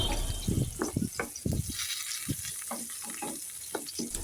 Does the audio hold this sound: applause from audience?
no